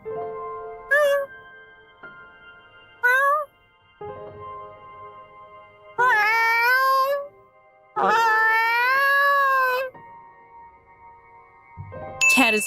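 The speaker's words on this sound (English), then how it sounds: "Cat is freaking out." A cat meows in several drawn-out, rising and falling calls, two short ones followed by two longer, louder ones, heard up close and on its own with no talk.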